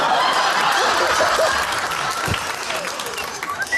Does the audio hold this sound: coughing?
no